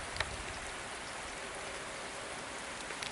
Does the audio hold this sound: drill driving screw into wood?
no